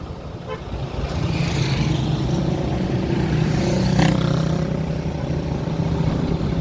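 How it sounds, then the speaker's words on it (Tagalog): Heavy, slow-moving road traffic in Lupi, Camarines Sur: vehicle engines rumble steadily nearby, and a car horn toots once partway through. No one speaks. "Matinding traffic to."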